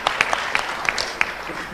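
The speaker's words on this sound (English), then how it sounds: "Round of applause once again." Audience at a green energy conference panel gives a short round of applause for a speaker, a handful of distinct sharp claps over a soft crowd background lasting under two seconds.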